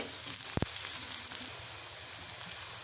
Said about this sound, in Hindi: भिंडी हमारी जो है वो फ्राई हो चुकी है।